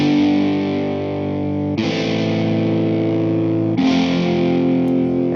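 A MIDI guitar run through EQ in Ableton plays sustained, distorted chords that change twice, dense and loud with a buzzy processed edge, with no talking.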